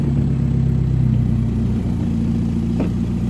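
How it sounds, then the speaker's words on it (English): A Seat Ibiza 6L with a 1.9 engine, close and loud, running with a steady low rumble and a faint rhythmic pulse, no distinct starter crank. "I'm gonna start the engine."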